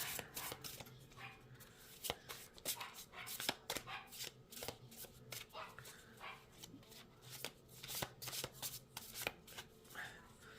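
Tarot cards riffle and slap in quick uneven bursts, close up, while a dog barks and whimpers in the background.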